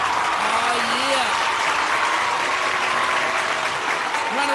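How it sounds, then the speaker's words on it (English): Steady, dense applause from an audience at a music-industry talk fills the whole stretch at an even level, with voices calling out faintly over the clapping. "Round of applause,"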